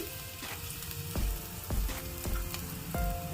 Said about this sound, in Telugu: ఈ ఆయిల్ అయితే బాగా వేడైందండి ఇప్పుడు చిన్న క్యారెట్ని ఈ విధంగా పొడుగ్గా ముక్కల కింద కట్ చేసుకుని వేసుకోవాలి